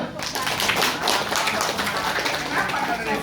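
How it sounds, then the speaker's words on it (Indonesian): An audience of teachers at a school training session applauds, dense overlapping claps filling the room steadily, with voices mixed in. "Tepuk tangan dulu."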